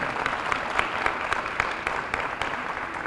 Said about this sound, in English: Let's have another round of applause for our great Mayor